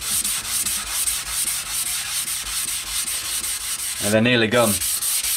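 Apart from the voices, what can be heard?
hand sanding motorcycle petrol tank paint with 600 grit sandpaper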